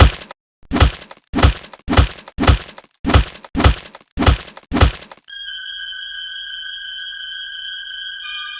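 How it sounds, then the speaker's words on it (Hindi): A series of eight heavy thumping blows at a steady rhythm in a comedy skit beating scene, each loud and sharp, followed by a sustained electronic tone. "अब इतना भी मत मारो कि लेट जाए इनके सामने।"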